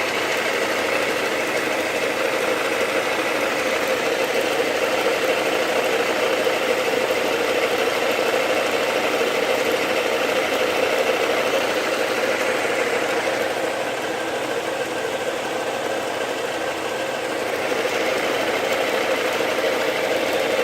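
A Harbor Freight belt and disc sander combo motor runs continuously nearby, a steady mid-pitched whirring drone with no breaks for about twenty seconds.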